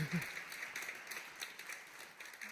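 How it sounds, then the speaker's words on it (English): At a fashion week sustainability award announcement, the audience gives the jury a round of applause, a faint, distant patter of clapping heard from far away at low level. "Give them all a round of applause."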